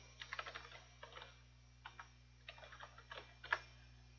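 Someone types on a computer keyboard, producing faint, quick clusters of key clicks with short pauses between them over a low electrical hum.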